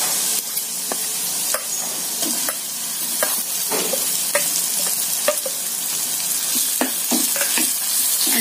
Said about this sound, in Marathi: आणि एकदा चांगलं हलवून घेऊया।